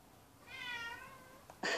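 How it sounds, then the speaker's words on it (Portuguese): A cat gives one drawn-out meow, moderately close but soft, followed by a short, sharper sound at the end over a quiet background. "o gato"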